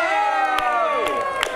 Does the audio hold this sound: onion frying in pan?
no